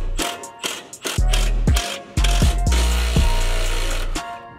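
Wrench tools loosening and removing nuts from the crash bar of a damaged Dodge Challenger SRT Hellcat, giving loud, close ratcheting clicks in several quick bursts with metallic clanks between them.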